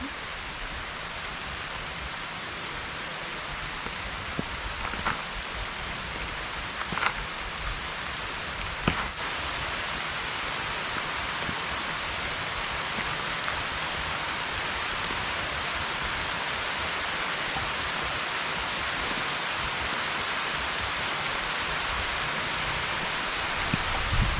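Rain falling in the countryside, a steady dense hiss of raindrops with occasional sharper drip ticks, sustained and fairly loud throughout with no talking.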